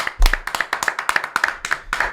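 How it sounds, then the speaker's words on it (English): One person claps their own hands about a dozen times in a quick, slightly uneven rhythm, close and dry, with a brief vocal sound near the start. "Clap myself this week."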